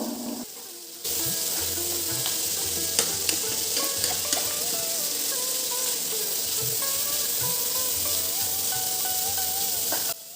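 Tomato, garlic, onion and turkey berries sautéing for a chutney, a loud continuous sizzle and hiss that starts abruptly, close up, with occasional ladle scrapes and clinks against the pan.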